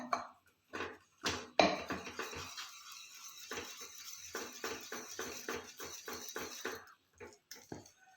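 Rice flour dough for khichiya papad being mixed in a pot, heard as a series of irregular scraping and knocking bursts with short pauses, close and moderately loud, no voices.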